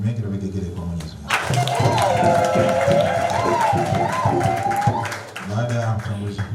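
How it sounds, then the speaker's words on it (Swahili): Crowd applause with high warbling ululation at a Catholic thanksgiving memorial mass, a dense burst of clapping and trilling voices that swells after a short silence and fades after a few seconds. "naomba makofi mengi na vigegele kwa Mwenyezi Mungu"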